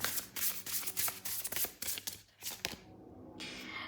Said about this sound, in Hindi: कुछ और कार्ड्स लूँगी गाइस